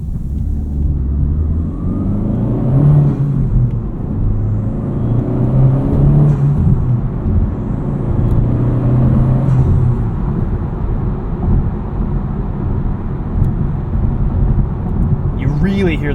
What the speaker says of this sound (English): Really hear this intake with the windows down